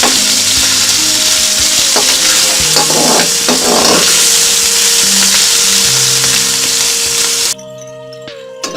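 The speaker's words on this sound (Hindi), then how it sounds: "अब हम चिकन डाल देंगे और इसे हल्का फ्राई कर लेंगे 2 से 3 मिनट तक।" Chicken pieces sizzle and fry steadily with ginger-garlic paste in a pan for restaurant-style chicken fried rice, with stirring scrapes midway, before the sizzle cuts down abruptly near the end.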